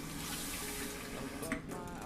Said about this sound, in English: So I'm going to add the other 1/2 cup of water.